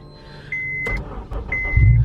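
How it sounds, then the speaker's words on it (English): A Honda Civic FD2 Type R's K20A engine starts: a short electronic chime and a few clicks come first, then a loud low burst as the engine cranks and catches at the very end. "we'll start the engine"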